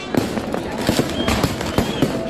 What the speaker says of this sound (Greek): δεκάδες πυροτεχνήματα που φώτισαν τον ουρανό